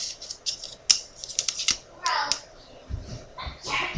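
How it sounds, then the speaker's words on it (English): Scissors snipping through paper, a quick series of sharp crisp cuts in an irregular rhythm, close and clear, with a couple of brief soft rustles between snips. "Okay, so we're gonna cut our paper,"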